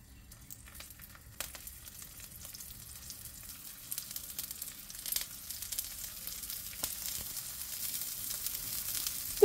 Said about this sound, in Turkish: Şimdi kabaklı köfteleri kızartacağım.